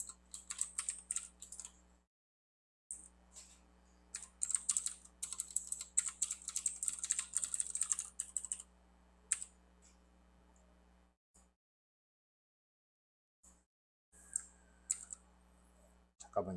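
Rapid bursts of clicking computer keyboard typing at a command prompt, close and fairly quiet, broken by several silent pauses, with a low steady hum underneath.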